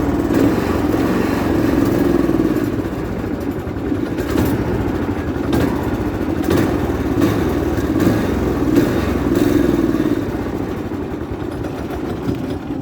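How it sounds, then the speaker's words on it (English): Predator 420cc go-kart engine running rough with a steady, close, loud drone that holds throughout, faltering and sputtering as throttle is applied and it tries to die. "when I start to hit the gas, this thing tries to die"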